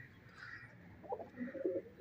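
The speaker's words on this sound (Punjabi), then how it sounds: "ਆ ਕਬੂਤਰੀ ਸਾਡੀ ਪਤਾ ਨਹੀਂ ਇੱਧਰ ਕਿਉਂ ਬੈਠੀ ਹੈ ਪਾਥੀਆਂ ਹਾਲੇ।" A pigeon coos a few times close by at a rural Pakistani Punjabi home, perched beside stacked dung cakes; the low, soft coos come in the second half, with no talking.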